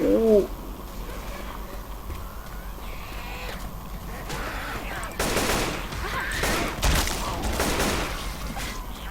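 Repeated gunfire from shooting in Left 4 Dead 2 gameplay, bursts clustering in the second half, with bird-like cooing game ambience early and background noise throughout.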